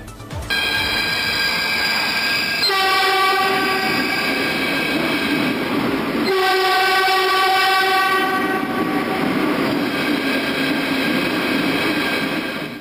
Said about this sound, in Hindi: अब देश में पहली बार बिना ड्राइवर वाली मेट्रो ट्रेन पटरियों पर दौड़ेगी।